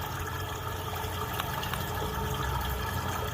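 Water rushes steadily through a freshly cleared toilet drain after the blockage is removed and the system is flushed, a loud, continuous broadband gush with no pauses and no voices.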